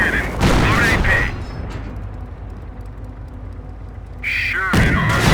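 A Sherman tank's cannon fires at a Panzer in the Company of Heroes video game, a loud booming blast followed by a lingering rumble and a second heavy crash, with game voice lines around it.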